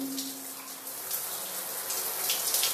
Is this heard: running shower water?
yes